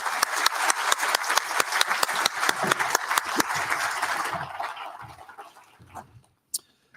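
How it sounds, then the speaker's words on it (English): An audience at a crypto regulation roundtable gives a panel a short round of applause, with sharp distinct claps that thin out and fade to a few scattered claps near the end. "Can I ask you all to please join me in a round of applause for this great panel?"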